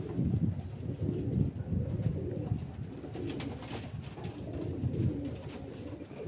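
A young highflyer pigeon gives low, soft cooing murmurs, continuous and close, with faint background noise.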